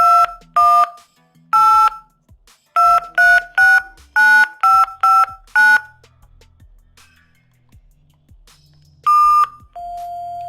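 A 1994 Nokia C16 bag phone sounds a run of loud, crisp dialing tones, short two-tone beeps in quick irregular bursts with brief gaps, then one longer steady tone at the end; no one speaks.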